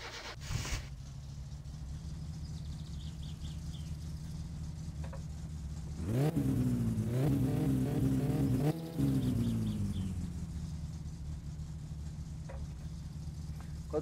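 A car engine in the game My Summer Car idles with a steady low drone, then revs twice in the middle, rising and falling before settling back to idle.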